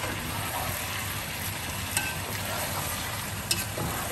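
Pieces of mutton sizzling in their own released juices in a pot over a high flame for kosha mangsho, a steady close frying hiss with a few faint clinks from stirring, no speech.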